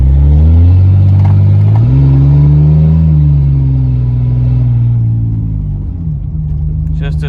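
A worn $500 Ford F-150 with its cylinder heads freshly swapped drones loudly from inside the cab, the engine revving up and easing back in a deep, booming exhaust note that fills the space.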